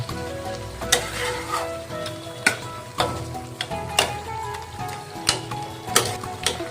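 Lote fish (Bombay duck) cooking in spice paste in a pan, a close, steady sizzle punctuated by sharp spatula scrapes and clacks roughly once a second, no voices.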